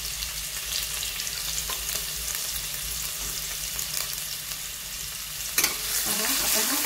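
Chopped onion dropped into a sizzling tempering of cumin and mustard seeds, a continuous crackling fry with stirring scrapes and a sharp clack of a spoon near the end, no voices.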